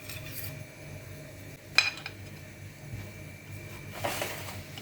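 Rolled fried roqaq pastry set down on a plate, giving one sharp clink of dish contact midway and a softer clatter near the end against quiet kitchen background.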